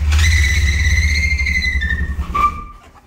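A manual Nissan 240SX S13 idles with a loud low rumble and a high whine. The engine then shudders and cuts out as it stalls, sputtering briefly before going quiet.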